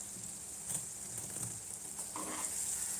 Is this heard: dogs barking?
no